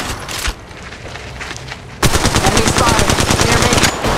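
Rapid automatic gunfire from an Auto Mastiff shotgun in Apex Legends Mobile. Muffled shots come first, then a loud, dense stream of closely spaced blasts fills the last two seconds.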